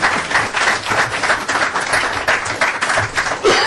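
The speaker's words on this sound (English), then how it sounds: "Oh, go ahead and clap." Audience applause at a legislators' town meeting: dense, steady clapping from a roomful of people, loud and continuous throughout.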